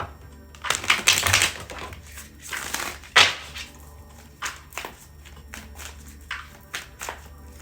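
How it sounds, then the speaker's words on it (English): Quick bursts of papery riffling and soft slaps, irregular and close, like a deck of cards being shuffled and tapped together by hand. "I kind of want to reshuffle"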